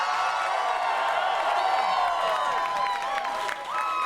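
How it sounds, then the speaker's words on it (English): A live-show crowd at the Bowery Ballroom breaks into steady, dense applause and cheering for a guest, with whoops rising over the clapping and the roar dipping briefly near the end. "Please give a big round of applause for Andrew Horowitz."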